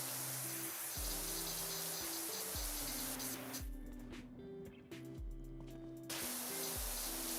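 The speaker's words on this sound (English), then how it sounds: "something about spraying these walls" Pressure washer spraying walls in the video game PowerWash Simulator 2, a steady hissing spray heard close up, with a brief gap partway through before the jet resumes, over a low game music bed and no talk.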